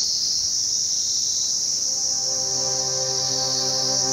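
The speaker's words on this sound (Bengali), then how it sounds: "চারিদিকে পাখির ডাক, ঝিঝি পোকার ডাক।" Crickets chirp in a village in North Bengal, a steady high continuous trill filling the air with a faint tonal hum underneath, no talk.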